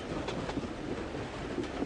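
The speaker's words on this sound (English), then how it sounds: "The train was getting nearer and nearer to Dover." A train runs steadily on rails, a dense, continuous rumble with faint rhythmic clicks of the wheels, heard alone and at close range.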